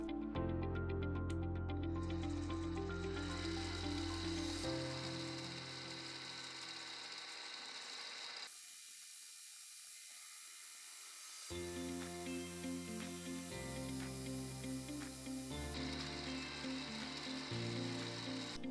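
A mini lathe turning a part as it cuts, a steady loud mechanical whine and grind with changing tones, briefly dropping quieter midway before resuming, no talk.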